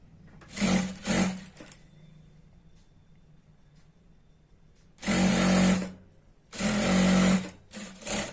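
A sewing machine stitches a churidar pant seam in four bursts of steady whirring, two short ones at the start and two longer runs later, separated by quiet pauses with no talk.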